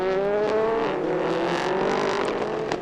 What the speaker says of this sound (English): Eurasia Motorsport car working its way through turns 3, 4 and 5 with the Dragon Speed car right on its tail.